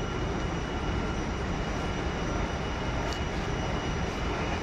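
A train at Warsaw Centralna station gives a steady, broad rumbling roar that fills the underground platform space, constant and fairly loud throughout with no voices.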